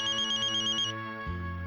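A Sony Ericsson mobile phone plays a bright electronic ringtone melody, close and steady, that switches to a lower repeating tone partway through, with no voices.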